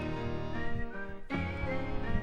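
A bright whistled melody opens a song, playing over a full musical backing of steady chords and bass, with a short break midway.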